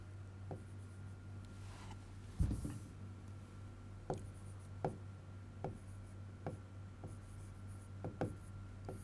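Chalk or marker strokes on a classroom board during a Class 10 maths lesson on circle area, heard as a series of short, fairly quiet scratches spaced about a second apart over a steady low hum.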